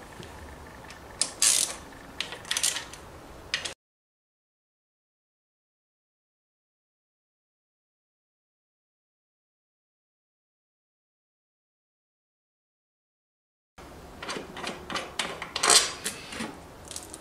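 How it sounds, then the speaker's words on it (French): Mechanical clicks and metallic ratcheting as the screws come off the kick-start cover of an MBK Nitro scooter, in two bursts separated by a long silent gap. "Vous devez donc desserrer les 11 vis qui font le tour de votre carter"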